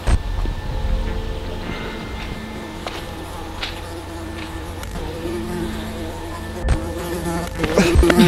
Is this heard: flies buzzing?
yes